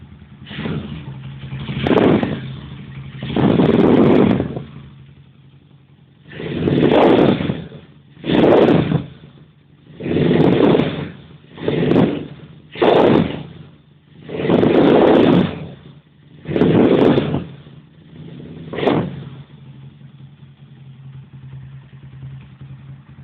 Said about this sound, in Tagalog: Ayan, makina ko, pakinggan nyo yung makina.